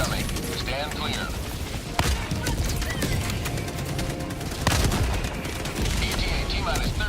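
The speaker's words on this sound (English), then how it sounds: "Orbital barrage incoming. Stand clear." An orbital barrage pounds the ground in a video game, with loud, continuous rumbling and rapid crackling impacts, and several heavier booming hits standing out through the dense barrage.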